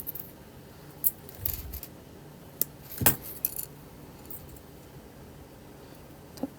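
Scissors snipping jewelry wire while making a wire-wrapped turquoise bracelet: a few sharp, isolated metallic clicks at close range, spread apart over a quiet background.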